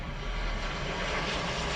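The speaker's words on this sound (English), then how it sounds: "Yeah, right over me, the plane." A fixed-wing airplane passes low overhead above a park, its engine roar a steady broadband rumble that stays loud and close through the short stretch, with no talk over it.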